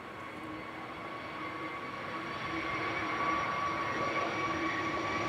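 An EasyJet airliner departing Manchester Airport for Copenhagen, heard as a steady jet roar with a whining tone that grows gradually louder over several seconds from a moderate distance.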